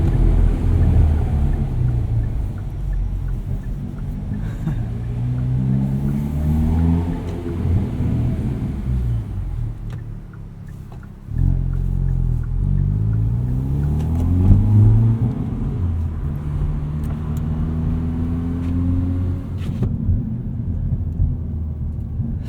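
A Hyundai Veloster N engine revs loudly inside a parking structure, its roar rising and falling in several sweeping pulls, then briefly dropping before climbing again, echoing off concrete walls with no voices.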